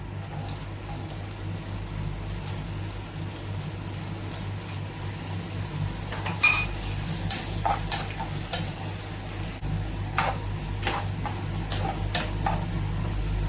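Sliced onions sizzle steadily in hot oil with coconut pieces while frying for a Kerala clam roast, a constant close crackle with a few sharp clinks and stirring scrapes of a spoon against the pan.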